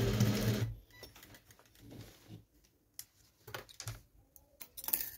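A sewing machine stitches a side slit on a coat. It makes a short, loud whirring burst at the start, followed by quieter intermittent clicks and handling of the fabric.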